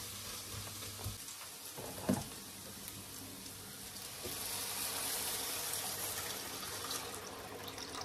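Tomato paste roasting in a pan gives a faint, steady sizzle that builds and holds, with a couple of brief clinks near the start.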